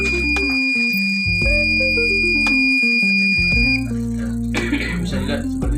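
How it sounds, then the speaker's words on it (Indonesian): A buzzer on a gas sensor circuit sounds as a steady high electronic tone once the gas level exceeds its threshold, over stepped low tones, with a brief noisy burst near the end. "jika gas melebihi dari ambang batas yaitu 500, maka buzzer akan berbunyi"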